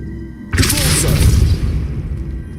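An Expulso spell explosion in Hogwarts Legacy: a sudden loud boom after a quiet moment, with a shattering burst and rumbling debris that slowly fades.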